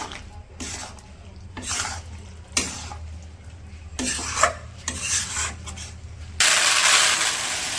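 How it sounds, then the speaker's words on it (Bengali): Meat being stirred and browned in a cooking pot outdoors, with repeated scraping, rasping strokes of a utensil against the pot in uneven bursts, ending in a louder steady sizzling rush. "মাংসগুলো ভালো করে কষাই নিই কিছুক্ষণ ঢাকনা দিয়ে"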